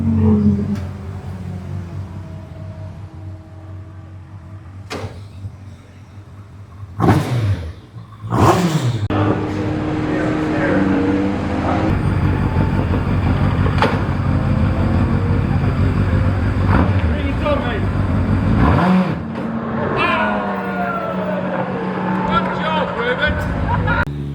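A racecar engine revs and pulls through the gears as it is driven, loud and close in-car with sharp rises and drops in pitch, while people talk over it.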